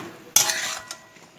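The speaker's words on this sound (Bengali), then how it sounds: "দিয়ে এটাকে ভালো করে নেড়ে একটুখানি ঢেকে দেব" A spoon stirs salted spinach curry in a pot with one sharp scraping clatter against the metal, followed by a softer stir and quiet simmering, close up with no voices.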